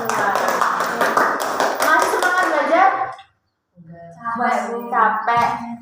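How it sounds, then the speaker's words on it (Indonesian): A class of children claps hands together in a classroom, the quick rapid claps mixed with loud young voices, then a short pause before more chanting voices. "kita tepuk tangan untuk kita semua"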